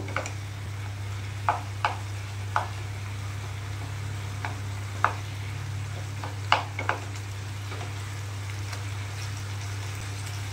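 Boiled potatoes being mashed in a pan, with a spoon giving scattered sharp taps and scrapes against the metal over a faint steady sizzle and a low hum.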